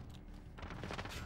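Rapid gunfire in Modern Warfare, a fast burst of shots kicking in partway through over a low rumbling background, fairly faint overall.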